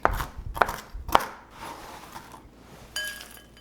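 Knife chopping green nuts on a cutting board for almond bark, three sharp close chops about half a second apart followed by quieter board scraping and a light clink.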